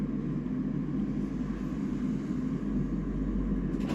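A Boeing 747-8i at London Heathrow gives off a steady, distant low roar, a constant rumbling engine drone that holds unchanged throughout, with no talking.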